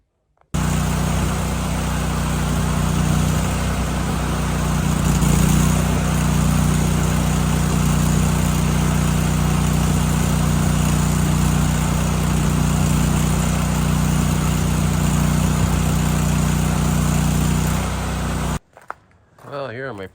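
A Miller Bobcat engine-driven welder runs during stick welding, giving a loud, steady engine drone with a constant low hum that holds for most of the time before cutting off abruptly near the end.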